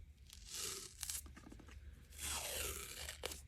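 A strip of 1.5 inch white athletic tape is ripped from the roll twice, close up and quiet, each tear a short rasping pull with brief crinkles between.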